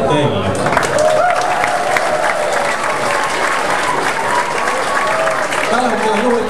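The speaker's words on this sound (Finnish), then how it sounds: "Aplodit teille." Audience applause fills a pageant show hall, steady dense clapping from a large crowd sustained throughout at close, loud level with a few cheers rising above.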